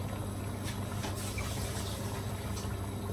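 Water drains in a low, steady gurgle from a pot of beef goulash with carrots, faint and continuous with no talking.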